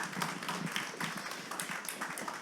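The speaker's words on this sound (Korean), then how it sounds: "축복의 박수 한 번 더 보내드리겠습니다" A church congregation claps together during an Easter Sunday service, a steady patter of hand claps that runs the full length, fairly close and with no voices over it.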